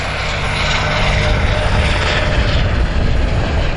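A P-51 Mustang fighter with a Rolls-Royce Merlin engine flies past at an air show, its loud, steady propeller drone filling the air with a full, rumbling roar that holds without a break.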